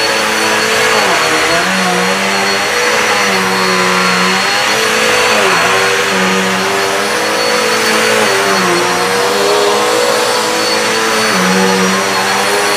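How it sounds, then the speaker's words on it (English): A Dirt Devil Versa Vac vacuum cleaner, reclined, runs steadily and loudly up close while cleaning a hallway floor. Its motor drone holds throughout with slight pitch wavers as it is pushed along. "Okay, so we're going to recline the Dirt Devil and turn it on."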